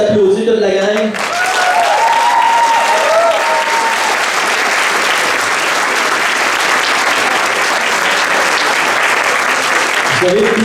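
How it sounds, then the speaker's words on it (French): Loud, sustained applause from a large crowd at a 50th anniversary celebration fills the room for about ten seconds, with a voice speaking briefly before the clapping begins and again as it fades out. "Donc, on s'applaudit toute la gang."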